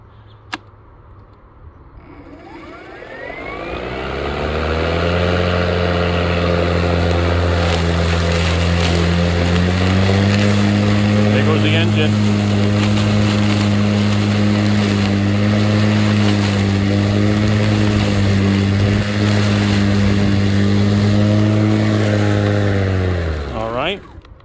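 A RYOBI battery-powered lawn mower spins up to a loud, steady electric whine that holds while cutting grass, then winds down at the end, heard close.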